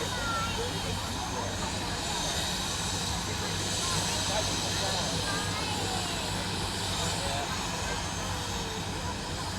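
A Royal Flying Doctor Service helicopter departs the Perth Royal Show showgrounds, producing a steady, moderately distant engine and rotor drone that holds evenly throughout, with faint outdoor crowd murmur underneath.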